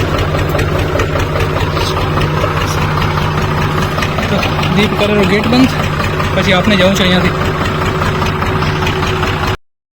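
A tractor's engine idles steadily outdoors after dark once pulled free from where it was stuck, a low continuous rumble running throughout beneath a man's close speech.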